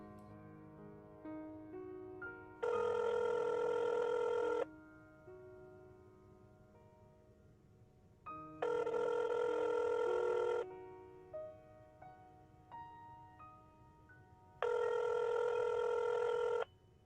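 A telephone rings in three evenly spaced bursts with quiet gaps between them, loud and close, over a faint background and no speech.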